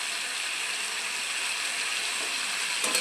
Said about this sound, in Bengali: কষা কষা হয়ে গেলে এরপর আমরা পরিমাণ মতো জল দিয়ে দেবো।